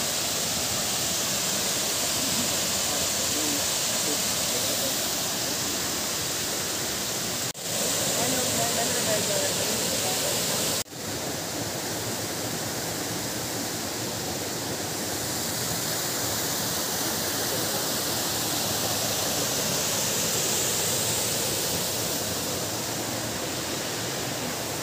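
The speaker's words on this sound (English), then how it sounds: "that's the waterfall in a place called Karura Forest in Nairobi, Kenya" Waterfall in Karura Forest, Nairobi, Kenya, a continuous broadband rush of falling water heard close and loud, steady throughout with two brief dropouts.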